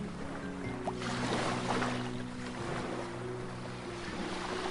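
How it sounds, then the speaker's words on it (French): Sea waves washing onto a white-sand beach, a continuous broadband wash that swells and recedes gently, with soft music in the background. "Et vous écoutez la mer,"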